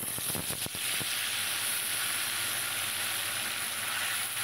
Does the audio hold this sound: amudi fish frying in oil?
yes